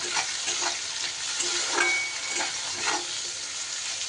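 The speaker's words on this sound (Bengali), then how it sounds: "এবার খুব ভালো করে টমেটোটাও পেঁয়াজের সাথে আমি একটু ভেজে নেব।" Chopped tomato and onion fry in a pan while being stirred, giving a steady hiss of sizzling with soft, rhythmic scraping swells every half second or so, fairly close and without talk.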